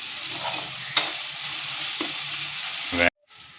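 Onion, garlic, ginger and green chilli sautéing in a pan, a continuous sizzle with occasional utensil clicks and scrapes, ending in a sharp knock before a brief silence.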